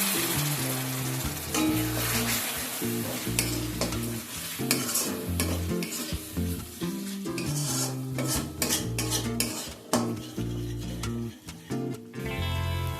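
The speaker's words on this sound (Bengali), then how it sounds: "সামান্য একটুখানি জল অ্যাড করে মশলাটাকে কষিয়ে নেব।" A spice masala for Lahori mutton korma being sautéed with a splash of water in a pan, with soft sizzling under repeated scraping and clinking of a spoon against the pot throughout, fairly close.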